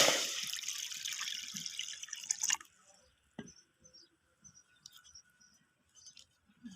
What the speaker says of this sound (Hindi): तो अब हम कढ़ाई में पानी डालेंगे।